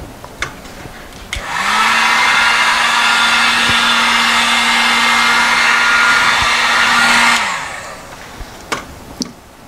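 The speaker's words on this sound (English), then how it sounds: "The heat gun doesn't do anything to it." Heat gun blowing over poured acrylic paint: a brief click, then a steady loud whooshing hum with a constant tone held for about six seconds before it switches off, followed by faint clicks.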